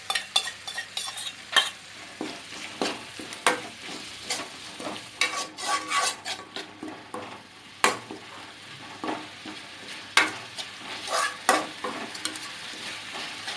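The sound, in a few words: prawns frying and being stirred in a pan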